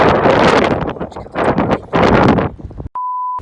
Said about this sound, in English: it's nice and windy out here after being in that sauna.